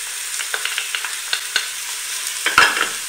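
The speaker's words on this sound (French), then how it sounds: "Je fais revenir dedans la viande. J'ai pris de la viande de collier, d'agneau." Pieces of lamb neck meat frying in a pot over medium heat, a busy crackling sizzle with scattered sharp pops and stirring scrapes, close and steady with no talking.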